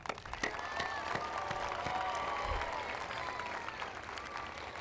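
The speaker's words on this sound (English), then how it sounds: "let's get an applause for all the graduates again" A crowd at a graduation ceremony applauds, steady clapping from many hands at a moderate distance, with a few faint cheers mixed in.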